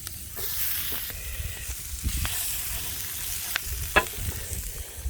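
Onion rings fry in butter in a pan, giving a steady crackling sizzle with brief sharper pops and a faint rumble underneath, with no talking.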